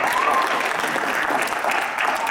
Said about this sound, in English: Let's applaud her.